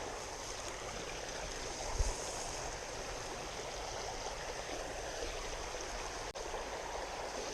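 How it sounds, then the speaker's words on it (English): A small creek runs through cedar woods with a steady, close babble of flowing water, broken only by a soft thump. "beautiful little hole here, beautiful little creek, and I love the cedar woods"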